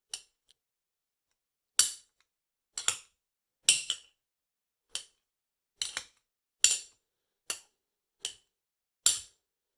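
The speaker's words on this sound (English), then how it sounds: "I'm just gonna give it a quick little stir" Spoon clinking against a glass while clover iced tea is stirred, heard as about ten sharp, bright taps spaced roughly a second apart, close and distinct with silence between them.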